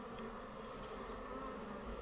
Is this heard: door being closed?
no